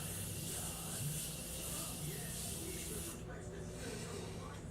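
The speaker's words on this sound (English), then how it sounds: "I am going to go ahead and set my face with the Morphe Continuous Setting Mist." Morphe Continuous Setting Mist sprayed onto a face, a long close hiss of fine mist that cuts off abruptly near the end, followed by quiet room tone.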